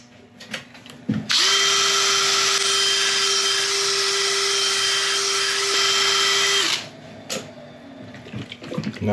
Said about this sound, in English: we're going to cut it back with an abrasive pad, about a 2000 grit